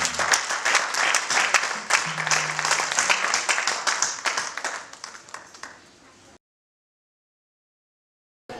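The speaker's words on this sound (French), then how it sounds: "Est-ce que vous pouvez acclamer pour la gloire de Dieu?" A church congregation claps and applauds loudly together for the glory of God in a steady, dense burst for about six seconds, fading out before a brief silence.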